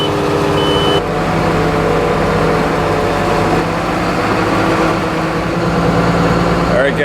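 A heavy excavator engine in a salvage yard runs loud and steady while the machine travels in reverse, with a deep rumbling drone and mechanical harmonics throughout, and a brief higher clank near the end.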